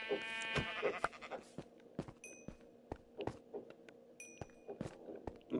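Sheep in Minecraft bleat in short wavering cries, several close together early on, mixed with sharp regular footstep and hit clicks and a few bright chiming tones, quiet overall.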